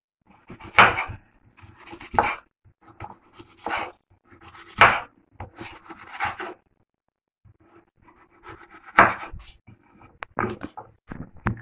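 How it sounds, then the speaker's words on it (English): A knife slices through chocho on a cutting board while Jamaican pickle sauce is prepared, giving a series of crisp, irregular chops and cuts close to the listener, with quiet pauses between strokes. "This is my chocho. I'm gonna show you. I'm gonna cut it. I'm just gonna just slice them like this."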